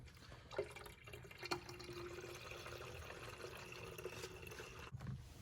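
Coolant is poured into the coolant tank of a 2014 Ford Mustang, a faint, steady trickling and gurgling flow close by, with a few small knocks from the container.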